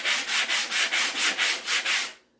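Sandpaper rubbing over a foam pool noodle, eight quick rhythmic back-and-forth scratchy strokes, close and crisp, then stopping abruptly.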